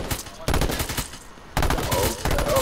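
Loud automatic gunfire in the H1Z1 battle royale game, two heavy sustained bursts separated by a quieter pause, close and harsh, with brief voice chatter in between.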